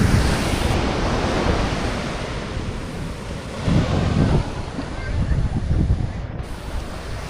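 Strong north wind roars across the beach at Playa del Carmen during a cold front, mixed with rushing surf; a steady, loud broadband wash with gusty swells throughout.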